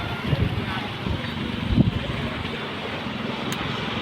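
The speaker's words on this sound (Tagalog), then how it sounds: "ang lakas ng hangin" Strong wind gusts buffet a seawall, roaring as steady broadband rumble and microphone buffeting with brief louder bursts, and a faint voice occasionally in the background.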